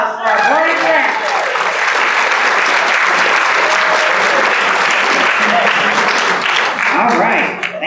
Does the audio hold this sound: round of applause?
yes